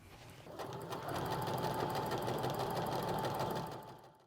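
A sewing machine stitches quilt pieces together, a rapid steady mechanical whir that ramps up, runs evenly for a few seconds close by, then slows to a stop.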